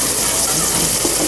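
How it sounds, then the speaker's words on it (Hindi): Water pours into a pan during home cooking as a steady, close rushing gush that lasts just over a second. "हल्का सा पानी डाल के"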